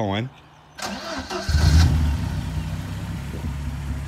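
A Ford Sierra RS Cosworth three-door's engine cranks, catches and settles into a steady, close idle, following a brief spoken word at the start.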